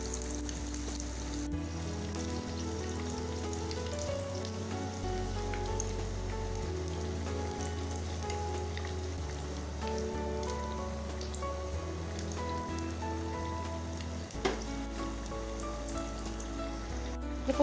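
Cabbage and egg spring rolls deep frying in hot oil, producing a steady, even crackling sizzle that runs unbroken throughout beneath faint background music.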